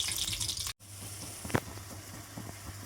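Mustard seeds and dried red chilies sputter and crackle in hot oil for a lemon rasam tempering, a soft steady sizzle with a few sharper pops, fairly quiet and close.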